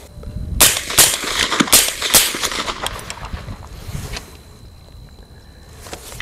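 A .50 Beowulf rifle with a Bowers Vers 50 suppressor fired outdoors, several sharp muffled shot reports in quick succession early on, then fading into quieter ambient noise.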